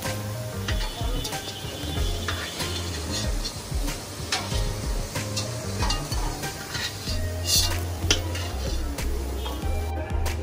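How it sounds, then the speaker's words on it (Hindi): Potatoes fry in hot oil with turmeric while being stirred, giving a steady, close sizzle broken by clinks of a spoon against the pan, with no talk. "जरा सा आलू फ्राई हो रहा है, हल्दी दे रही हूँ"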